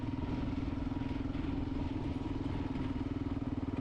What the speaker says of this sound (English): A big single-cylinder engine motorcycle?